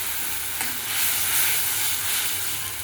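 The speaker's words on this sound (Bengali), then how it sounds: "মশলা জলটা ঢেলে দিচ্ছি।" Spiced water poured into hot frying masala for a lentil dish erupts into a loud, dense sizzle and hiss that holds steady and close for the whole stretch.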